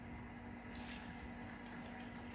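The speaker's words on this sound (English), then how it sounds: "on top of that, you're going to add 500 millilitres of water." Water poured from a jug over sliced apples in a baking dish, a steady close splashing pour that runs unbroken for a couple of seconds.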